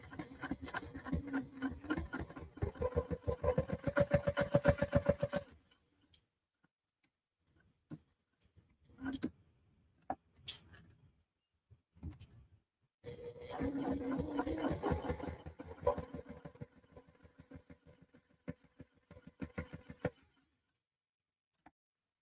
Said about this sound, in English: We're going to top stitch along the bottom to close the pocket.